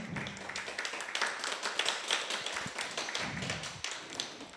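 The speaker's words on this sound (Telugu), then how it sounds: "మీ చేతులు మీరు చూసుకున్నాక క్లాప్స్ కొట్టాలండి." A group claps hands together after a meditation session, producing a dense, continuous patter of many overlapping claps that stays fairly even throughout.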